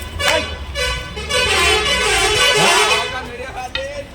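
Vehicle horns honk repeatedly in a busy street during a crowded temple festival in Koteshwara, with steady traffic rumble and crowd noise beneath.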